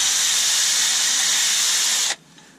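A battery power sander works a small beech live-edge bowl on a lathe, a steady high hissing whir that runs unbroken for two seconds, then cuts off abruptly into quiet.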